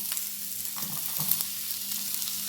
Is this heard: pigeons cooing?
no